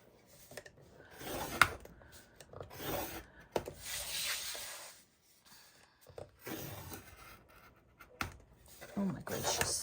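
Paper being scored for 6 1/4 by 8 1/4 inch mini album base pages, with repeated scraping, rubbing strokes of a scoring tool in bursts separated by short pauses, close and fairly quiet.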